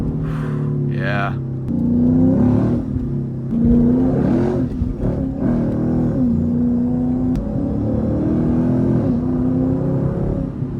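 A Lexus IS F engine fitted with a new exhaust, heard from inside the cabin while driving, a refined and fairly muted rumble that rises and falls with revs under ongoing conversation.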